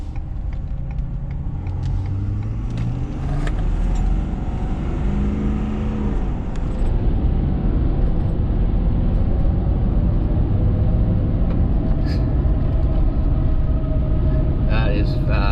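A 2021 Ford F450 Platinum pickup truck accelerates hard on the road, heard from inside the cab as a deep engine rumble and rising revs building over many seconds, steady and loud throughout.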